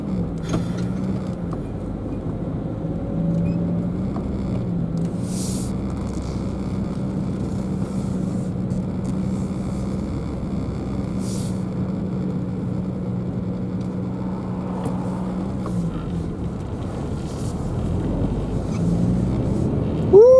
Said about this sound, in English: Put it in 6th gear and let it eat.